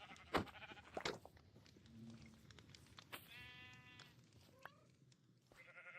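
Sheep in Minecraft bleat a few times in short wavering calls, fairly faint, while a person talks over the game sounds.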